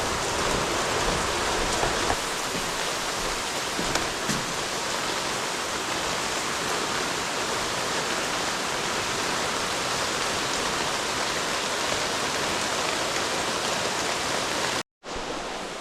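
Steady, heavy rain pours on surfaces outside a building with a wide overhang, a dense continuous hiss filling the whole stretch before cutting out abruptly near the end.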